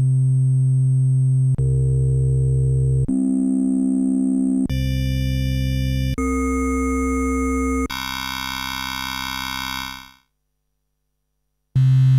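Behringer Pro VS Mini synthesizer sounds a series of sustained tones, each held a second or two before switching to a new timbre, loud and clean, then a brief silence before another note starts.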